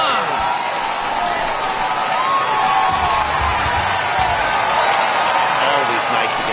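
A baseball stadium's home crowd in MLB The Show roars and cheers steadily after a home run, a dense continuous wash of noise with voices mixed in.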